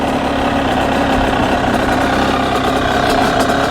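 A Yamaha YZ85 dirt bike engine, newly started with one kick and no throttle, idles steadily and loudly up close with a rough, even two-stroke burble throughout.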